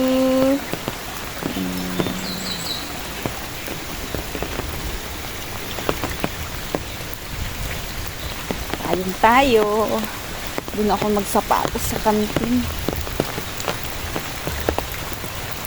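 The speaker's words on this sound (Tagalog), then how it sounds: "Tag-ulan na talaga" Heavy rainy-season rain pours steadily onto surfaces, a dense, close hiss that lasts the whole time. Someone talks briefly over it, and a few short tones and beeps break through in the middle.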